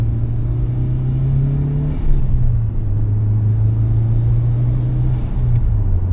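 A Mitsubishi Lancer Evo 6 drives with a loud, steady engine drone and low road rumble, the engine note dipping slightly midway as if shifting gear, close and continuous with no voices.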